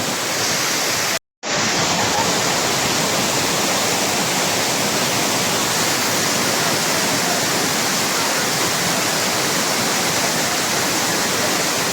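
Heaven Falls, a waterfall in Davao de Oro, roars as a steady, loud broadband rush of falling water, close and continuous, with a brief dropout near the start and no talk over it.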